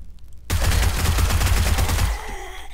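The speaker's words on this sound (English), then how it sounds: "let's just snipe her. It's just so much easier with the sniper rifle" Gunfire in the zombie survival game 7 Days to Die, from a sniper rifle: a loud, close, dense burst of rapid shots that starts abruptly out of near silence, lasts about a second and a half, then fades.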